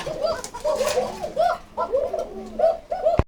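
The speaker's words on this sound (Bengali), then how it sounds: "এই যে ডাকতেছে কুকা" Several pigeons at a farm coo in repeated rolling bursts, loud and close, with the calls overlapping one another and a sharp knock right at the end.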